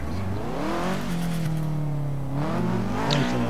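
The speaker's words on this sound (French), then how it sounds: "Pourquoi vous êtes parti en mini drift devant moi?" Forza Horizon 3 car drifting: a steady engine drone with rising and falling revs, close and continuous, a brief scrape or squeal near the end, no talk.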